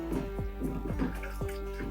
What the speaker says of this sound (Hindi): अब इसमें पानी डाल दें, और आपने पानी इतना डालना जितनी आपने ग्रेवी रखनी है।